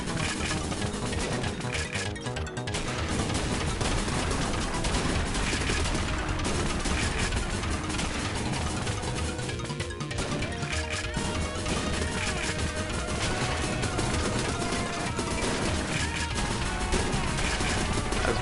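Dense, continuous clatter of smashes and rapid shots in the video game The Messenger, loud and busy for the whole stretch with no pause, layered over game music.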